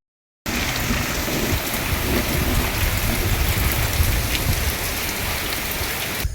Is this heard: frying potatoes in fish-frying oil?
no